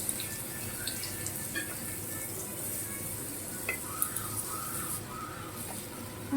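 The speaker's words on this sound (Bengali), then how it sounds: "তো আলুটা আগে ভেজে নিই ভেন্ডির জন্যে" Potatoes frying in hot oil in a wok hiss in a steady, moderate sizzle broken by small pops and crackles.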